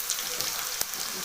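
Nimki pieces frying in hot oil over a low gas flame give a steady, soft sizzle with a faint crackle, close by and continuous, with no talking.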